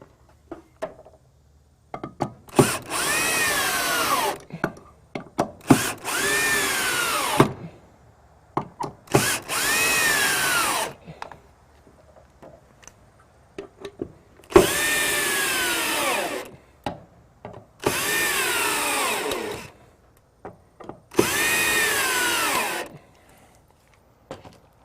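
A power drill drives screws into an underdecking backer board in six long whirring bursts separated by pauses, loud and close, with handling clatter between runs.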